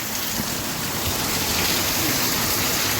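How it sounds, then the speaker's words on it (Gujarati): Heavy rain pours down in a steady, loud, unbroken roar of water that fills the whole moment, with no voices over it. "જુઓ ધોધમાર વરસાદ ચાલુ થઈ ગયો"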